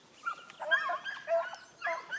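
Hunting dogs bay and yelp in short, excited bursts as they chase a jumped rabbit, several cries in quick succession at moderate distance, with no talking.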